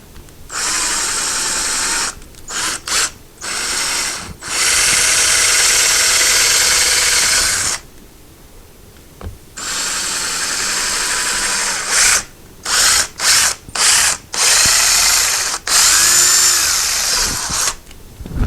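A power drill bores screw holes for a closet shelf in repeated bursts, whining loudly for several seconds at a time and then in short quick pulses, with pauses between runs.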